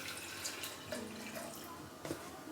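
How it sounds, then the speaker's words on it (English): Water poured into a shaker for a protein shake makes a faint, steady trickle with a few small splashes, close by and quiet, with no talking. "So I'm just gonna add some water first."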